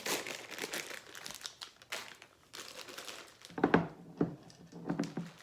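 A bag of white chocolate chips crinkles and rustles as it is emptied, with bursts of crackling plastic and a few louder crumples and soft thunks of chips landing, no voices.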